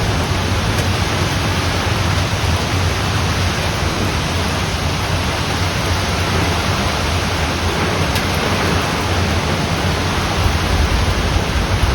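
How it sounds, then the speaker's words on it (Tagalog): A typhoon's strong wind and heavy rain make a constant, loud hiss and rumble, a thick wash of sound with no pauses and no one speaking. "grabe yung hangin at ulan"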